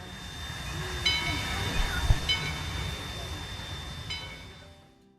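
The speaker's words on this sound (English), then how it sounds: "you can see the train sparks and actually hear the engine roar" A steady low rumble of a train engine with hissing noise and a faint high tone, continuous and moderately loud, fading out at the end, near Yosemite.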